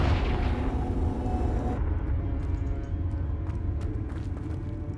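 A Confringo blasting spell goes off in a video game, a heavy booming explosion that roars loudly at the start, then decays into a long rumbling tail with scattered crackling debris.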